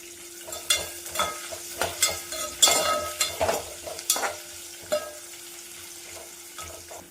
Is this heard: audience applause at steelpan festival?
no